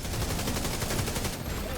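Rapid gunfire in a video game as a hacked warhead gets shot down, a dense, steady burst of close shots running the whole stretch with a faint voice underneath.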